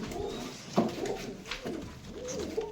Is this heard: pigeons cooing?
yes